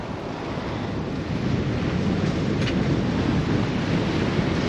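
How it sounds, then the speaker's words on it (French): Wind gusting across open sea aboard a sailboat sailing close-hauled through a Greek channel between Kefalonia and Zakynthos, a constant roar of wind and wave wash that swells slightly louder partway through, with no voices. "quand on rentre dans cette passe, le vent monte"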